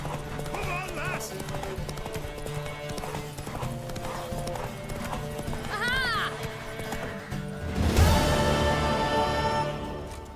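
A galloping horse in The Witcher 3 drums out rapid rhythmic hoofbeats, with whinnies and a rider's shouts of encouragement over game music. The gallop swells louder near the end.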